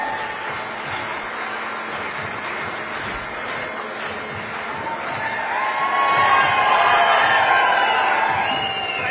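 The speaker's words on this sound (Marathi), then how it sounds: "त्यांचं मी जोरदार टाळ्या वाजवून आपण स्वागत" A large crowd at a political rally in Phaltan makes a continuous roar of applause and cheering that swells louder after the first few seconds, with no clear speech.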